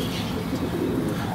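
A pigeon coos softly and closely, a low murmuring call running through the short moment.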